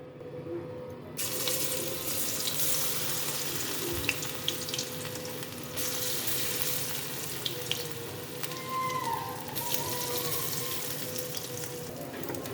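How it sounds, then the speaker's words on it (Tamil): Baby corn crackles and sizzles steadily as it deep-fries in hot oil, a dense bubbling hiss that continues throughout with a few sharp pops. "இப்போ நம்ம இது பொரிக்க ஆரம்பிச்சிடலாம்"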